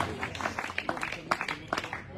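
A small audience applauds, with scattered, fairly quiet claps coming in uneven bursts over a brief stretch.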